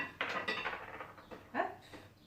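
Roasted almonds are tipped onto a plate, giving a close, quiet cluster of light rattling and clattering knocks that comes in a couple of short bursts, with no talking.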